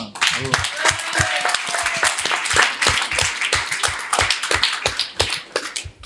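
A small audience claps in scattered, uneven bursts at an indoor group session, the sharp hand claps close and moderately loud while people keep talking throughout.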